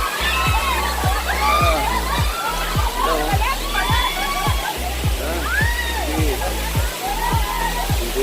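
Water pours from a falls into a hot and cold spring pool resort in Margues, Esperanza, Sultan Kudarat, a constant rushing splash close by, with a person talking over it.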